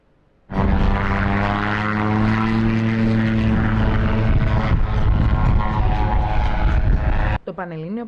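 An ultralight propeller airplane at Serres airfield in Greece, during a national ultralight aircraft championship, starts up abruptly and holds a loud, close, steady droning hum for about seven seconds before cutting off.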